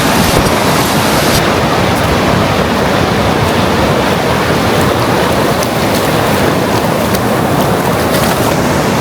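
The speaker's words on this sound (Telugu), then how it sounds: "చూడండి ఎంత బాగున్నాయి అలలు, సముద్రపు అలలు." Pacific ocean waves break on a beach in a loud, continuous wash of surf and hiss, filling the whole stretch without pause or voices.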